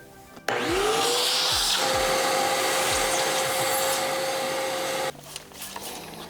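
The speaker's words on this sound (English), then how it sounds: "Should probably vacuum some of that while we're in there." A vacuum cleaner switches on, its motor rising to a steady loud whine, runs with some bumping and scraping, then shuts off abruptly.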